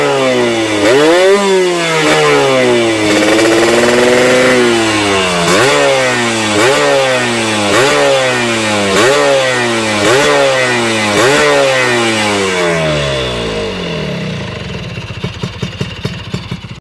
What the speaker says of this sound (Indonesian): Coba kita cek sound ya, tinggal engkol saja bung.